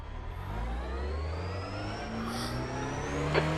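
A race car engine drones steadily in the iRacing sim, a continuous mid-pitched hum with a slowly rising rev tone, rising slightly in loudness near the end.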